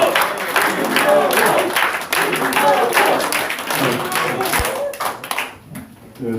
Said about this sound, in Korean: 여러분들 우리 일어서서 긴 박수 한번